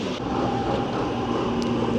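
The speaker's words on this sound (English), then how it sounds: "Okay, so there's a big train coming in." A big train comes into a station near Montserrat, Barcelona, giving a steady, moderately loud rumble with a faint tonal hum throughout.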